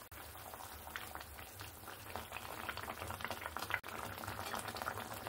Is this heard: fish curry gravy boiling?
yes